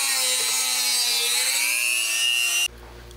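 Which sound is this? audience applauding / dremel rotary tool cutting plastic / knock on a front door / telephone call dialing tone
dremel rotary tool cutting plastic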